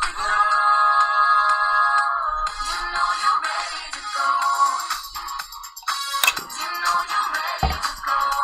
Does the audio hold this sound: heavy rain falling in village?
no